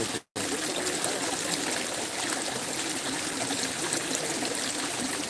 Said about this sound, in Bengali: জল আসছে